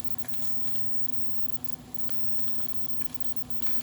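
Rinsed, towel-dried shrimp sizzling in a hot pan for bone broth ramen, a steady, even frying hiss that stays level throughout with no talk.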